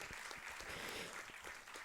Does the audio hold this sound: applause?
yes